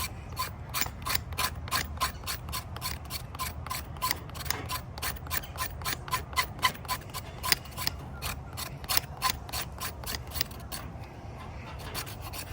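Fatwood being scraped into fluff: a steady run of sharp, rapid rasping strokes, close and fairly loud, repeating evenly for the whole stretch with no talking.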